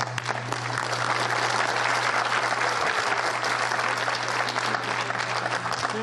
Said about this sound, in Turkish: hepinizi ayrıca e, kocaman alkışlarla alkışlamak istiyorum